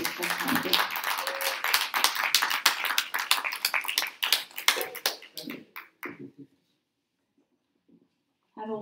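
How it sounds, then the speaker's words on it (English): Audience applause for Gordon Cragg at the close of a talk on sharing stories, truths and perspectives: a burst of dense clapping for about six seconds, fading out, with a brief patter returning at the end. "Can we give Gordon another round of applause?"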